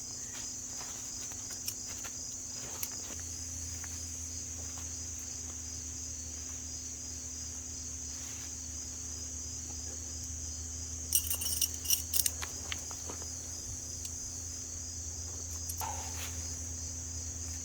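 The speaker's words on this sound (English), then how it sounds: "the crickets and stuff have been going non-stop" Crickets chirp continuously in a steady high-pitched drone in the mountains at night, joined by a low hum and a few brief metallic jingles partway through.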